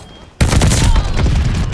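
Sustained automatic gunfire from a Thompson submachine gun in Call of Duty: Vanguard, erupting abruptly after a brief quiet and continuing loud and dense, with booming low rumble throughout.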